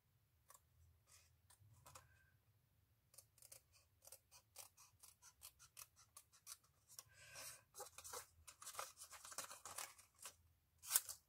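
Scissors cut paper for a pop-up card in a run of small, quiet, close-up snips, sparse at first and then coming faster and denser toward the end.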